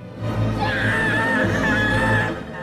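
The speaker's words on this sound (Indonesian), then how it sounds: "akhirnya berteriak sekencang-kencangnya memanggil nama ayahnya" A boy screams at full volume for his father in a dramatic scene from a tsunami disaster film, one long, loud, strained cry that carries unbroken across the whole stretch.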